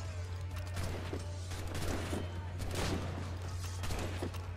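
Ship cannon fire in the video game Assassin's Creed Rogue, with repeated booming volleys over a steady low hum and ongoing battle noise, loud and continuous throughout.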